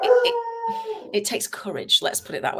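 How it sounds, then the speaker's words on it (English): A dog howling and whining indoors, a drawn-out tonal howl at the start, then yips and whimpers continuing while someone talks over it. "Please excuse the dog. He's just mental today."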